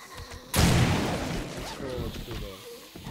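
Mine explosions in the survival game 7 Days to Die, one loud sudden blast followed by a long rumbling decay, with smaller pops and rumbles continuing underneath.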